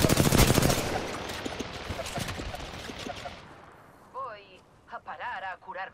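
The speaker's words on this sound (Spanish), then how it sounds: "Están disparando." Gunfire in the video game Apex Legends crackles in a dense burst of rapid shots that tapers off, followed by a few brief whooshing tonal game effects.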